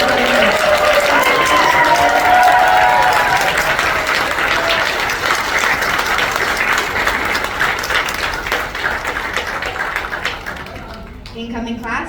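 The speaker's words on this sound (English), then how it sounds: "Audience, please join me in a round of applause for the incoming baccalaureate nursing class of 2021." An audience at a university nursing pledging ceremony applauds the incoming baccalaureate nursing class with sustained, dense clapping that fills the room, then thins and fades out toward the end.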